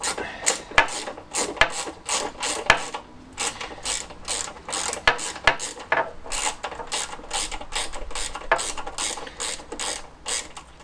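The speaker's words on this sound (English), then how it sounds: "just going to get our 10 ratchet, put it in here" A 10 mm ratchet works nuts off a classic Fiat 500 engine, giving quick runs of sharp metallic clicks in steady bursts as the handle swings back and forth, close and clear.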